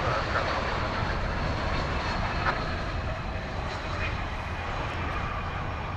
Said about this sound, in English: an Airbus A320 coming in from Grand Rapids